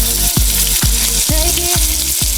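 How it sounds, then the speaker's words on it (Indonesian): Salted peda fish fries in hot oil in a home Sundanese kitchen, giving a loud, steady sizzle broken by several sharp stirring scrapes at a regular pace. "Proses pertamanya itu goreng ikan asin pedanya terlebih dahulu."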